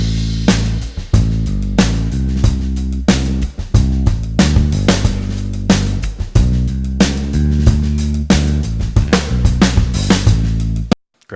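A rhythm section of drums and bass bounced down in Cubase plays a steady, punchy groove with regular kick and snare hits under a repeating bass line, loud and continuous before stopping abruptly at the end.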